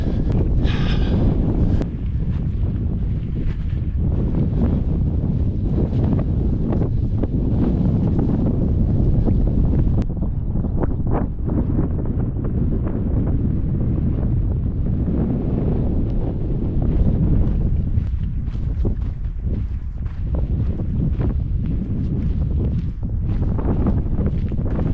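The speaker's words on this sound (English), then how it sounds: "It's very windy up here." Strong wind buffets the microphone on a Lake District hilltop, a loud, steady roar with gusty low-end rumble and no talking.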